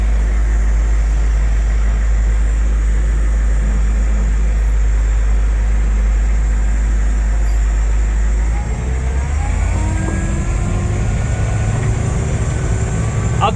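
A Humvee diesel engine pulls away hard from a yield, with a steady, loud, heavy drone throughout. Its low rumble shifts and rises partway through as the truck builds speed. No voices are heard over it.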